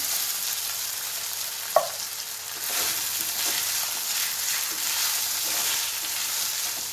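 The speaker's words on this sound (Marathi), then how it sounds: "मिरची आणि कढीपत्ता थोडे फ्राय झाले की त्यामध्ये आपण भिजवलेला साबुदाणा मिक्स करूया" Soaked sabudana stir-fried with green chillies and curry leaves in a hot pan gives a steady close sizzle, with one sharp clink near the start and soft stirring scrapes throughout, no voices.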